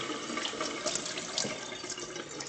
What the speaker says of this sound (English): So let's head over to the very exciting sink here. Just grab a bit of water.